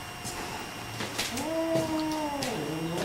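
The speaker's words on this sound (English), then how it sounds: "Yeah, the other cat's out here. We're going to have a territorial fight." Two cats in a territorial fight, one giving a drawn-out, wavering yowl that rises and falls over a couple of seconds, close and fairly loud over faint room noise.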